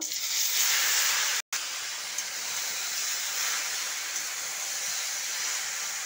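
Jujube plums tipped into hot oil in a wok with panch phoron spices and dried red chillies, giving a loud, steady broadband sizzle that holds throughout, broken by one very brief dropout.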